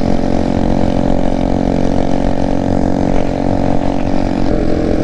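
Wind roar and a steady engine drone from a small Grom-clone motorcycle cruising at highway speed on a three-lane road, loud and continuous throughout.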